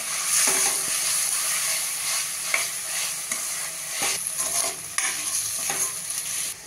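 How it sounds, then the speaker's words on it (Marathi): Soaked wheat dalia with toor and moong dal is being sautéed in a pressure cooker, giving a continuous gentle sizzle. A spoon scrapes and taps against the metal at intervals as it stirs, and nobody speaks. "हे पण थोडंसं आपल्याला परतून घ्यायचंय"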